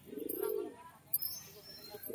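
Pigeons at a Bengali loft, including young birds and mated pairs, give a low cooing burst near the start, with quieter coos and faint rustling after, fairly close and not loud.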